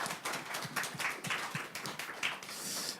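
A church congregation claps in a muffled, scattered burst of applause heard from some distance, steady over a few seconds with no talking.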